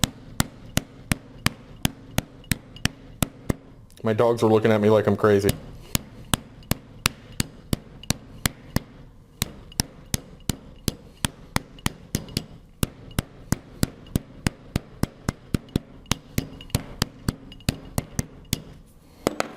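Sharp, repeated thwacks of a meat mallet pounding chicken cutlets flat on a cutting board in an uneven, steady rhythm, paused briefly while someone speaks, then resuming.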